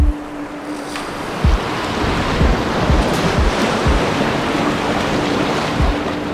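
Whitewater rapids roar steadily where Atikanak Lake narrows into a passage in the Quebec wilderness, a dense, continuous rushing wash with occasional low thumps close to the microphone.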